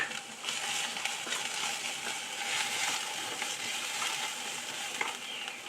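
Garlic paste and ginger paste fry in a pan with a steady, soft sizzle and occasional stirring scrapes, no voices.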